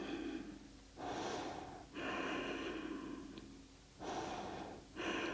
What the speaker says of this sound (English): Take deep breaths here.